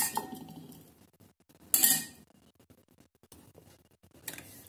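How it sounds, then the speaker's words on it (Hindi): Spoon clinking against a bowl while curd is stirred into boiled potatoes, a few sharp metallic taps and soft scraping, close and fairly quiet with no talk. "अब दही को मैं अच्छे से इसमें मिक्स कर लूंगी आलू में"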